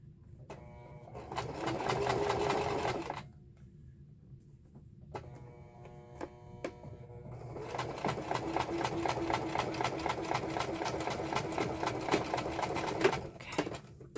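A sewing machine stitches a lavender sachet made from a scrap napkin, with two runs of fast rhythmic mechanical whirring: a short burst, a pause with a few clicks, then a longer run of stitching. The sound is fairly quiet and close.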